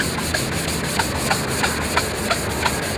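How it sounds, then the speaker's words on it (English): A sanding block is rubbed back and forth across a UV-deteriorated plastic car headlight, giving a steady, close scraping hiss with regular strokes about three times per second. "we want to take our sanding block that comes in your kit, and you want to sand off"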